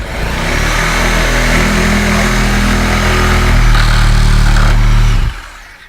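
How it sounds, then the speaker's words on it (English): A Sawzall reciprocating saw cuts through the nails behind exterior lap siding, making a loud, steady motor buzz for about five seconds before it suddenly stops. "Run the Sawzall all the way down, cutting through all the nails."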